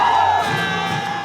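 A street crowd at a Saint-Nicolas parade with giant figures, heard as a loud, sustained roar of cheering and shouting voices blended together for about a second.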